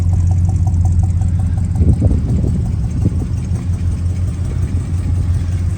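A 1972 Buick Skylark Custom convertible's engine idles steadily and close by outdoors on a brisk January day, a deep low rumble with a faint rhythmic tick and no voices.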